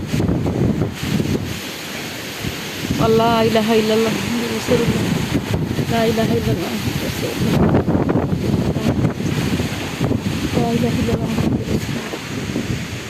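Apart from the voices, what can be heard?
storm wind blowing in Khulna village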